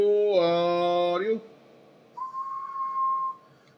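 A person whistles into an Anytone AT5555N2 radio microphone: a loud, steady, harmonic-rich tone lasting about a second, then after a pause a thinner, purer whistle held for just over a second.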